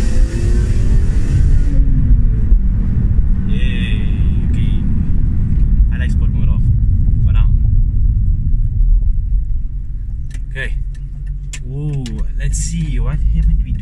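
A BMW M3 E46 accelerates in sport mode, its engine a loud, steady low rumble filling the cabin while people talk over it throughout.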